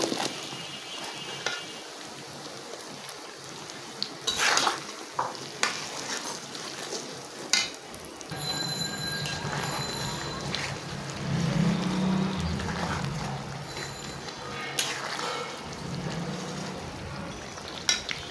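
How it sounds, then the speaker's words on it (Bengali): Olives go into a hot pan of fried spice paste for pickle, bringing clattering stirring scrapes and then a steady, louder sizzle that carries through to the end, with no talk. "কষানো হয়ে গিয়েছে এখন আমি জলপাইগুলো দিয়ে দেবো"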